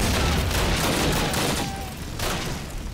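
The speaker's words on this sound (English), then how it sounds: "Stop! Stop with the grenades!" Heavy gunfire and grenade blasts in the World War II shooter Call of Duty United Offensive, a loud, dense barrage of booms and shots that eases briefly before surging again.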